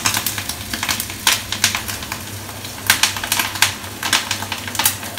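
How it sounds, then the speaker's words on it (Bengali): Fish fritters sizzle and crackle in hot oil in a home kitchen, a continuous spitting hiss broken by sharper bursts of popping, close and fairly loud with no talk. "তো মা গরম গরম বড়া ভাজছে"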